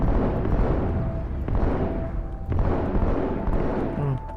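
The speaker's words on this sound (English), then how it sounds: "It's a tree burst, this one." Tree burst explosions in the Halo 2 video game give a run of deep, heavy booms about a second apart, each followed by rumbling decay, loud and close.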